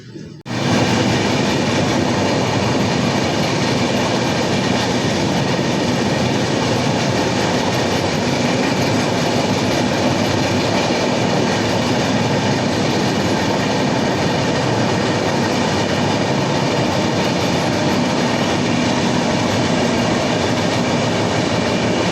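Ahmedabad to Prayagraj train running, heard from inside the coach as a loud, continuous rumbling roar with steady rail noise throughout.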